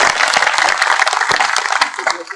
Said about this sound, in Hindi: साहब एक बार विधायक महोदय के लिए तालियां हो।